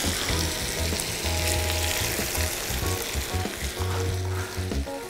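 Mushrooms fry loudly in a pan alongside bell pepper, a dense, continuous crackling sizzle heard up close with no talking.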